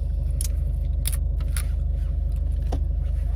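A car left running in a parking lot idles with a steady low engine throb and rumble, with faint clinks and scrapes scattered over it.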